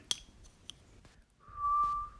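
Eerie whistling like the El Silbón legend: a long sustained whistled tone in the second half, preceded by a few brief whistle blips, faint and alone.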